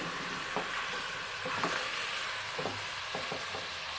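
Mutton and thick-sliced onions frying in cooking oil, a soft steady sizzle with occasional clinks and stirring knocks, faint and without talk.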